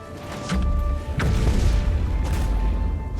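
Heavy booming blasts of cannon fire from a mount in the video game Guild Wars 2 over a sustained low rumble, with sharp impacts near the start and middle, loud and close.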